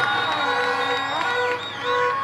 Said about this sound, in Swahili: Piga makofi mengi sana na vigelegele kwa walimu wetu.